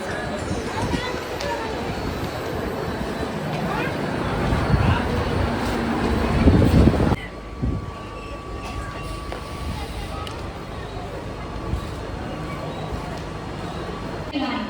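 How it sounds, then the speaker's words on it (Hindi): A Mumbai local train pulls into Kalwa station with a rising rumble and screech that builds for several seconds and then cuts to quieter station noise, while people talk throughout. "आ भी गई ट्रेन गाइस"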